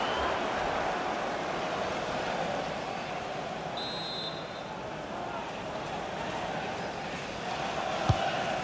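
A stadium crowd roars and murmurs continuously at a Premier League match between Wolves and Aston Villa in EA Sports FC 24, with a brief sharp thud near the end and a commentator's voice talking over it.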